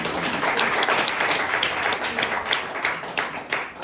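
Audience at a French stand-up comedy show bursting into dense, continuous clapping that holds steady for about four seconds and eases slightly at the end, with no voices over it.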